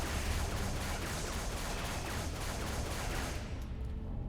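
Rapid gunfire in Halo 3 while shooting at spider enemies: a sustained, dense barrage of shots at moderate volume that runs steadily and then cuts off near the end, with no voices.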